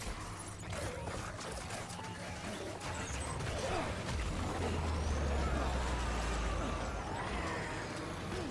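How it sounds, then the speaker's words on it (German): Truck in Death Stranding laboring up a steep hill, a low steady engine drone with rumbling and hissing texture that swells slightly midway, heard alone without speech. "Der Laster klettert aber auch wie eine Bergziege da."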